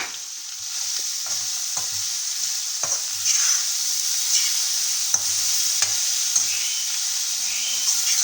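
Tomatoes frying in a pan for chickpea chaat, a steady close sizzle with occasional scraping stirs and clinks of a spoon, no talking.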